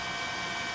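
A news helicopter filming the tsunami over northern Miyagi Prefecture, Japan, makes a dense, steady rotor and engine roar that is close and constant, with no talking.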